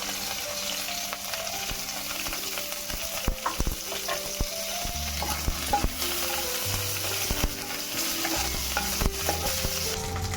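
Curry leaves and cumin sizzling in half a teaspoon of hot oil, a continuous crackling fry with scattered sharp pops and spatters, fairly close and alone without any talk.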